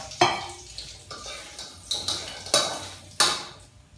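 Snakehead fish going into a hot frying pan for a Thai curry and stir-fry, with a run of sharp clattering hits and brief sizzling hisses spaced about half a second apart, close and fairly loud, with no talking.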